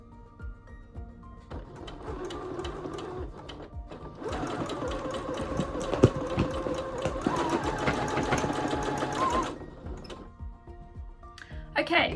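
A sewing machine stitches a patched, quilted bag in steady running bursts, starting and stopping with a long sustained run in the middle, close and fairly loud, with handling clatter between runs.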